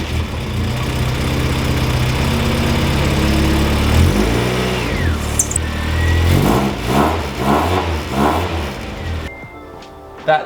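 A Mazda MX-5 drift car engine running close up after fresh spark plugs are fitted, a steady idle rising into a few revving blips before cutting off near the end.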